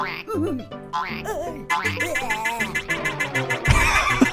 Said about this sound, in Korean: 이번엔 개구리야?